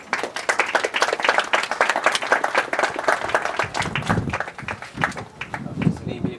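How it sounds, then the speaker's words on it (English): Wedding guests at a golf club ceremony break into lively applause, brisk clapping from a modest group that swells and ebbs in waves, with a few voices talking over it toward the end. "Should we give Georgia a round of applause?"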